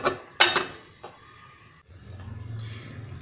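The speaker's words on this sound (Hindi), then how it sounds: "हम फिर सब्जी को इसको चला देंगे बीच बीच में।" A spoon stirs kundru (ivy gourd) curry in a cooking pan, with a few bright clinks of metal on metal, then soft scraping and low simmering noise, close up and without speech.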